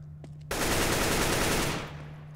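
Close, loud automatic gunfire in Counter-Strike: Global Offensive rips out as one sustained burst of rapid shots, lasting over a second before cutting off into quiet.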